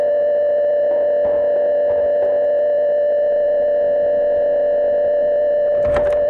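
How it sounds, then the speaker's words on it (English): A loud, steady ear-ringing tone in the horror game Murder House holds one pure pitch with faint overtones, droning without a break, while a few soft thumps sound beneath it and a brief burst of noise comes near the end. "Freaking ears are ringing."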